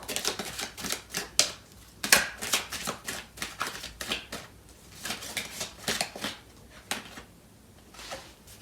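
Tarot cards being shuffled for a Cancer love reading, a quick series of crisp riffling flicks and soft slaps up close, quiet and rhythmic with brief pauses between bursts.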